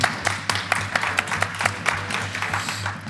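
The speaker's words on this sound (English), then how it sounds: "It's actually nice having an applause here that isn't just us." Brief applause from a live panel audience, scattered clapping with a steady low hum beneath it, moderately close and fading near the end.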